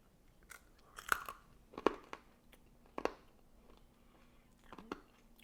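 Crunchy dehydrated blackberry chips are bitten and chewed up close, with a few sharp crunches spaced about a second apart and quiet mouth sounds between them.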